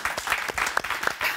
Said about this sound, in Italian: Ti faccio un applauso da solo.